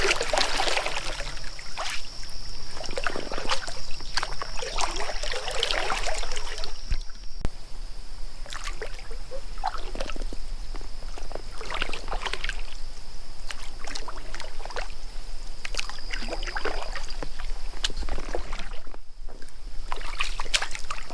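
Canoe paddled on a lake during fall camping in Canada, with soft repeated paddle strokes and water sloshing and trickling close by, plus a faint steady tone and occasional knocks.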